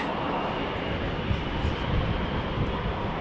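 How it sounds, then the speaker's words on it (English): KLM Embraer 190 jet airliner at Amsterdam Schiphol, a steady broadband engine roar that holds at an even level for a few seconds, with no talk over it. "This is the KLM Embraer 190."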